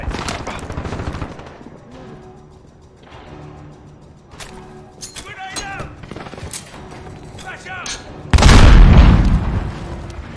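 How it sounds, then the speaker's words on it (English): Cruise missile explosion in Call of Duty: Modern Warfare, a deep, loud boom hitting near the end and rolling on, preceded by scattered gunfire and clanks under occasional voices. "Cruise missile away."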